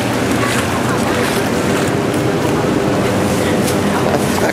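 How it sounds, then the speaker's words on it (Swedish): A taxi boat passing on a river in Bangkok gives a continuous broadband rush of engine and water, loud and steady throughout, with wind buffeting the microphone. "men däremot har jag sett en och annan båt"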